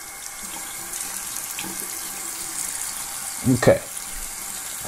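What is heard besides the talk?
tap water running over a thermal cycling glove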